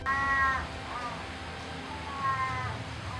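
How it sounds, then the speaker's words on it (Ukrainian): Two short, raspy, nasal calls from a Pallas's cat (manul), harmonic and slightly whining, separated by a pause, over a low background rumble. "Звуки, які вони видають, більше схожі на суміш гавкання маленької собачки, совиного ухання та низького хрипкого бурчання"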